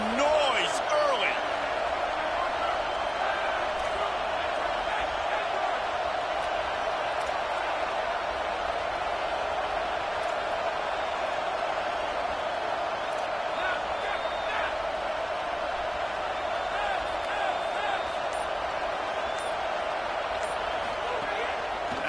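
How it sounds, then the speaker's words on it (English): Roaring stadium crowd at a Georgia vs Tennessee college football game, a loud continuous wash of noise sustained for over twenty seconds with a commentator talking over it. "This crowd bringing the energy and noise early."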